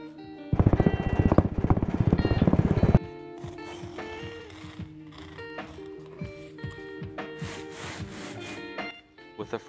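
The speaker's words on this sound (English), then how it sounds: "Here I am carving out half of the thickness of the pattern." A wooden casting pattern for brass sand casting is carved by hand. Loud, fast rhythmic scraping and rasping of the blade on wood comes first, then gives way to lighter, scattered cuts and scrapes close by.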